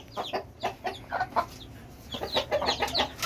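Mother hen clucking softly among her newly hatched chicks in a pen, short repeated clucks and faint peeping in irregular bursts, close and moderately loud.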